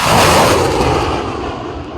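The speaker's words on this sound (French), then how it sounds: "a supervisé personnellement des tirs à l'artillerie lourde" Heavy artillery fire during a military operation in North Kivu, a loud, sustained roaring blast with dense rumble that slowly fades over about two seconds.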